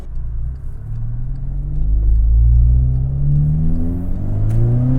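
APR Stage 3 tuned VW GTI making about 350 wheel horsepower, accelerating hard with its engine droning and exhaust rumbling as revs climb steadily, loud and close with no talk.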